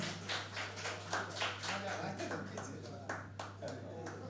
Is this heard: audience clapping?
yes